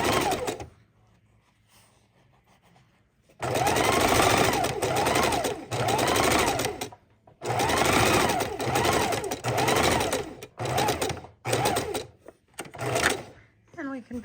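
A sewing machine stitches quilt fabric pieces in several loud, sustained runs separated by brief pauses, with a quiet lull at the start.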